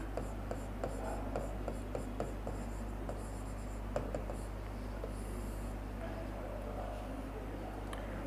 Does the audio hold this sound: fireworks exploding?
no